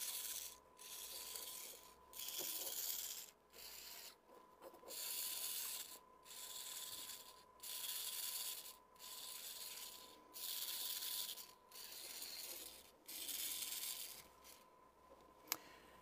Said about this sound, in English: you should have your motor continually changing direction and running for 1 second in either direction.